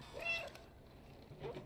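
A cat meows twice in the video game Stray, two short quiet cries separated by about a second over a soft, low background.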